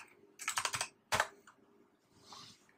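Typing on a computer keyboard to enter a command: a quick burst of rapid keystrokes, then a single sharp key press, followed by faint clicking, all close and without talk.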